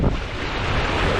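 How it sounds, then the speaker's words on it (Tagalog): Strong sea wind roars and buffets the microphone beside crashing surf, loud and continuous for a brief moment, with no voices. "lakas na naman ng hangin"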